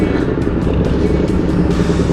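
An FKM Ranger 150 motorcycle rides along a road at night, its engine and wind noise forming a loud, steady close rumble.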